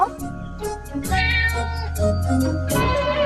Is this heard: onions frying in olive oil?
no